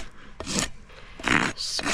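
Short, close strokes of a rasp across a laminitic mini pony's hoof as it is bevelled, two or three quiet scraping passes separated by brief pauses.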